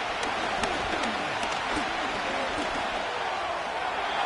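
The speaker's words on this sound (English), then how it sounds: "this crowd making it hard to hear" Dense, loud roar of a stadium crowd at an NFL football game featuring the Dolphins, a constant wash of cheering noise with a commentator's voice over it.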